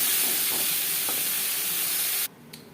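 Pointed gourd fries lightly in oil with salt and turmeric, giving a loud, steady hiss of sizzling that stops abruptly near the end.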